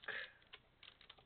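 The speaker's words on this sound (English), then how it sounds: "Just into the browser, you just want to type Google dark" Typing on a computer keyboard to enter a search into a web browser: a brief run of soft, quiet key clicks, close by with nothing else around them.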